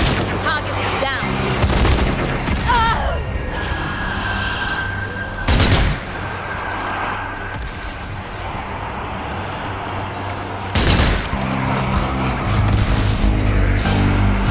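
Gunfire in the zombie shooter game Zombie Army 4, heavy booming shots and bursts at intervals across the scene, mixed with game voices and a continuous background din.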